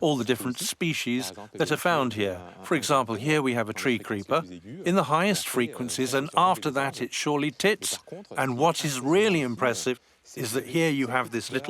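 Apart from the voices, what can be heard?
No distinct noise like a dog, phone or traffic.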